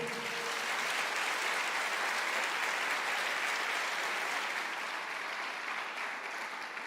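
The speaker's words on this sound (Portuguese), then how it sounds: "Aplauda o Senhor." Congregation applause during a Portuguese-language church service, a thick, uniform roar of many hands clapping together, loud and sustained for the whole stretch with a slight easing at the end.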